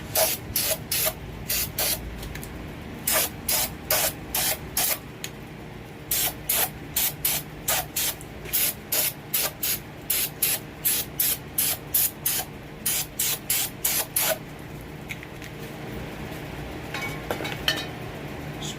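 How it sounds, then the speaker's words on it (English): Brake cleaner sprayed onto the cylinders of a BMW M62 V8 Alusil engine block during honing: repeated short hissing bursts in a steady rhythm, loud and close, continuing for most of the time before tapering off. "Spray the cylinders down."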